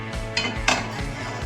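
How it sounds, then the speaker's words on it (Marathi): A flat iron griddle pan set down on a gas stove burner, giving a few metallic clanks and scrapes of cookware, close and moderately loud, with no talking. "गॅस पेटवला तर आपण पहिले तवा ठेवूया"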